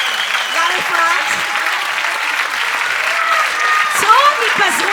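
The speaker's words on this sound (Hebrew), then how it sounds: "מגיע להם חיפות, כפיים סוערות" Loud, sustained applause for sixth-grade performers after their show at a school graduation party. Voices talk and call out over the clapping throughout.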